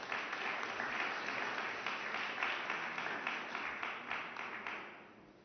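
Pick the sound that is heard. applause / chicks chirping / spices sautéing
applause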